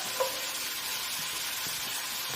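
Two cloves of garlic hitting a hot pan with softened Jerusalem artichoke, giving a steady, close hiss of frying that holds evenly throughout with no voices.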